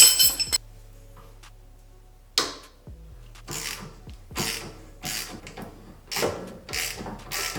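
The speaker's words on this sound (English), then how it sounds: "Now what I'm gonna do is get my 17 ratchet and wrench, go to the wishbone in here" A 17 mm ratchet works on a wishbone bolt of an Acura TSX, giving a series of sharp metallic clicks and clanks in short bursts, close and fairly loud, with quiet pauses in between.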